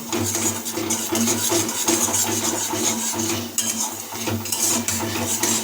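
A spoon scrapes and clinks around a pan while cumin and coriander powder are stirred in for Bengali curd fish (doi katla), a steady run of close metallic stirring with a faint sizzle.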